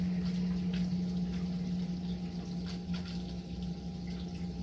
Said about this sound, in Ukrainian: зливаю воду